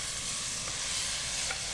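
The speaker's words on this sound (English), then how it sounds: "And you can hear it sizzling." Canned diced potatoes and Spam sizzle in a frying pan, a continuous close crackling hiss with faint stirring scrapes, with no talk over it.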